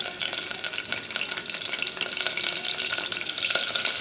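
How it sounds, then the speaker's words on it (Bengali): Onions fry in oil in a cooking pot, giving a steady, loud, close sizzling hiss that runs without a break and with no voices. "দেখুন পেঁয়াজগুলো হালকা ভাজা হয়ে আসছে"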